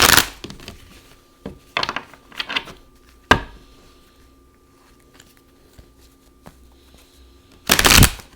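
Tarot cards shuffled by hand during a reading, in short crisp riffling bursts with a final louder shuffle near the end, heard close over a faint steady hum with no speech.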